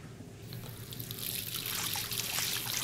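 Running water in the video game Life Is Strange, a steady close trickle from a tap that swells into a fuller, splashy flow partway through, heard alone.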